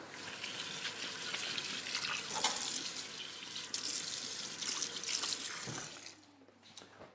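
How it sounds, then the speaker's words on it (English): A kitchen tap runs steadily as hands are washed under it, a close, broad rushing splash that cuts off near the end, leaving quiet room tone. "And then I will just wash my hands quickly"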